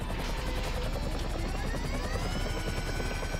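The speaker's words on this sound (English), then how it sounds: "I'll take care of that goddamn helicopter." Helicopter in Grand Theft Auto 5 Online, a loud, steady rotor thrum with a whining turbine, continuous and close throughout.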